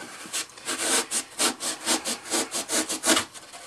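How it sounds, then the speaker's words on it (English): Hacksaw blade cutting foam scenery material for a model railroad layout: close, brisk back-and-forth strokes, about a dozen rhythmic rasping pulls in quick succession with no talking over them. "this stuff should cut fairly easily with my hacksaw blade"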